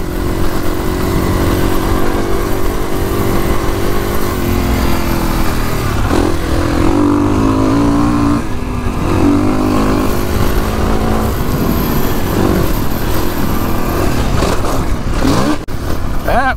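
Kawasaki KX450X dirt bike engine droning and revving continuously on a trail in cold weather, loud and close throughout, with pitch rising and falling as the throttle opens and rolls off.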